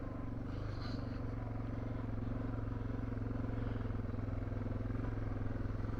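An adventure motorcycle riding a trail gives a steady, close engine drone with a low throbbing pulse and wind rush, the engine note building slightly and holding for several seconds with no voices.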